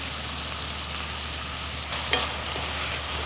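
Brown rice tteokbokki simmering and sizzling in a pan with salt and cayenne added, a steady close bubbling fry throughout, with a brief stir or scrape near the end and no talk.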